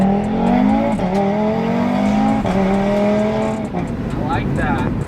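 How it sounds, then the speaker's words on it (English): A Corvette C8 running on 91 octane accelerates hard with a loud, close engine note that rises in pitch through two gear changes, tire noise coming in toward the end while a person talks over it. "This right now on 91 should be about as quick as a stock new gen R8, which Rick has over there as well."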